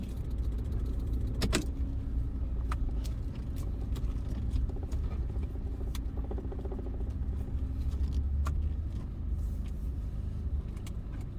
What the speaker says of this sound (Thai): รถมา ซาเล้งมาจอดที่โรงพักนะคะ